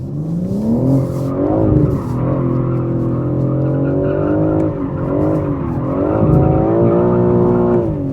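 A BMW M4 Competition coupe driven hard, its engine roaring loud and close with sweeping rises and dips in pitch through gear changes and throttle lifts, continuous over several seconds with no talking.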